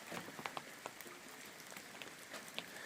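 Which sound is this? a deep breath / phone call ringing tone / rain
rain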